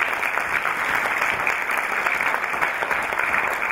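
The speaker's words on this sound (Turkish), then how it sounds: "Kendisine kocaman bir alkış tutar." Audience at an awards ceremony applauds an honoured mayor, a full, even wash of many hands clapping that holds steady throughout.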